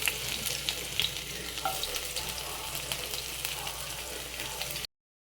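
Chopped ginger and garlic frying in oil in a kadai: a dense, steady hiss and crackle up close, with small pops and spoon taps, cutting off abruptly before the end.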